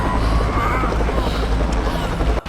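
A helicopter in the Tomb Raider video game roars steadily with a dense, continuous rotor and engine drone that fills the whole moment, loud and close.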